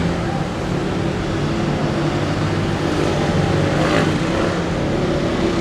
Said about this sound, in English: It's a motorcycle gang.